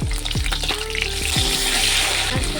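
Pieces of fish fry in mustard oil after being flipped, a steady loud sizzle and crackle with recurring short descending tonal swoops roughly once a second, close and continuous throughout.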